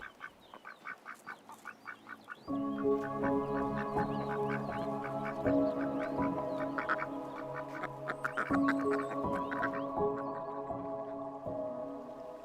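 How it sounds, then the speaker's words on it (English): Ducks in the Danube wetlands, disturbed by a fox, quack in a rapid, excited chorus, starting as a few calls and swelling into a dense, continuous flock of overlapping quacks. "The ducks are disturbed by a sneaking fox."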